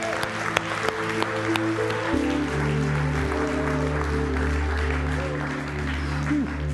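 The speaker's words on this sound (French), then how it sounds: "On applaudit le roi des rois." A church congregation applauds loudly and continuously, sustained clapping with some voices mixed in over organ-like held tones and a music bed.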